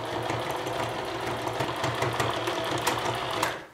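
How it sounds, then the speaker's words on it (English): A sewing machine runs steadily for the whole stretch, stitching along the edge of a strap on a reusable fabric tote bag, its fast, even mechanical whir close and continuous with no talking. "We're just gonna sew right here along the edge."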